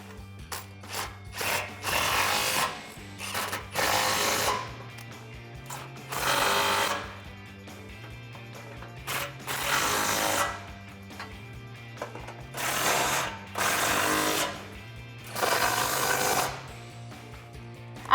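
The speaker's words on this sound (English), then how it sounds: "we can tighten everything up with a 13mm socket" A power tool drives 13mm socket bolts on heavy-duty side step bars being mounted to a 2005-2020 Toyota Tacoma, sounding as repeated short whirring bursts separated by pauses, close and steady in rhythm with no talk.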